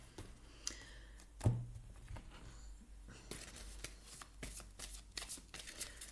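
Oracle cards shuffled by hand at close range, a brisk riffling and patter in repeated bursts, with a sharp knock early on and faster flicking in the second half.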